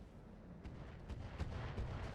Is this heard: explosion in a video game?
yes